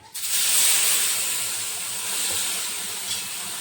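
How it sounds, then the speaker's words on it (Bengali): Water splashed onto a hot, lightly oiled dosa pan bursts into a loud, steady hiss of steam that starts abruptly and holds at full strength with no voices. "জল ছিটে দিয়ে মুছে দিচ্ছি"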